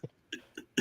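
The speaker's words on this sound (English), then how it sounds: "Probably why I'm coughing right now." A man coughs three or four times in short bursts, close and fairly loud, each harsh cough separated by brief pauses.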